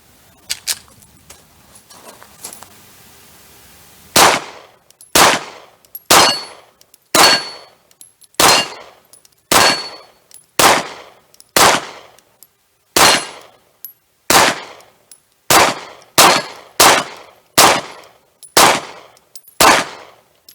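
Pistol shots fired one after another from a White River SPP magazine modified with a full spring kit, a loud sharp report roughly every second in a steady rhythm after a few seconds of quiet handling.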